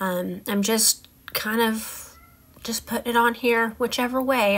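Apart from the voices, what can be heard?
cat meowing loudly in the background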